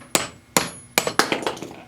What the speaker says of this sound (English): if you use a hammer, you can pound on that